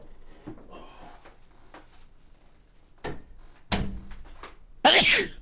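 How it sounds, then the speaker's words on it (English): An indoor door shut at home: a few soft thunks and handling knocks build to a sharp, fairly close slam near the end, with a bright burst of noise on impact. "me shut my door so my heater doesn't come through."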